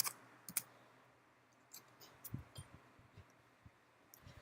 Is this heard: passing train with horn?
no